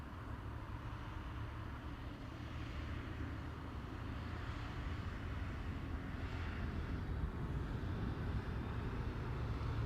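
A KLM Airbus A321neo departs Amsterdam Schiphol, bound for Zurich: a steady, fairly distant jet engine roar with a low rumble, holding level and swelling slightly toward the end.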